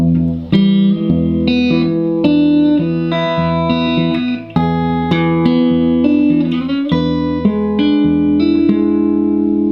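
Clean guitar Travis picking in a steady alternating pattern, bass notes rolling under higher plucked strings, clear and close with no voices.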